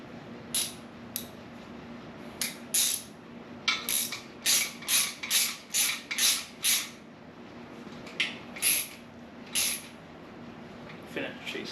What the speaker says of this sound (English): Finish chasing this hole, already in there.